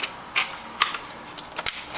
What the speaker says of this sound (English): push down on the tabs till you hear the clicking noise